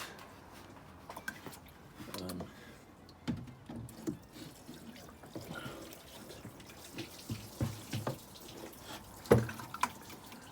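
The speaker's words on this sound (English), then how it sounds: "I have ended up putting some water in the filter" Water trickles and splashes through the scuttle drain of a VW Caddy Mk2 1.9 SDi, running steadily for about ten seconds with intermittent drips and knocks, close by and moderately loud, with no voices.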